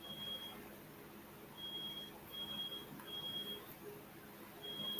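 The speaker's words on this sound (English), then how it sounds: "I'm muting because of this beeping." Short electronic beeps repeat at intervals during an online meeting, a steady high tone pulsing over faint background noise and low murmur.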